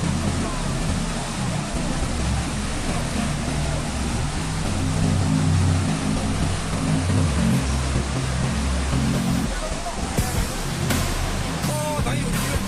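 Torrential flood water rushes in a dense, loud, unbroken roar that fills the whole stretch, with a deep rumbling underlayer and brief sharper bursts near the end.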